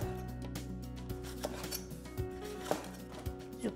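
A knife slices a red pepper into rings on a cutting board, giving a series of crisp, irregular cuts and taps against the wood over a faint background hum, with no talking.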